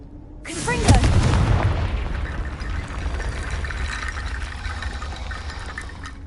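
Confringo spell blast in the game Hogwarts Legacy: a single sudden, heavy boom with a deep low rumble that decays into a long crackling, hissing tail, loud and close. A voice calls out just before.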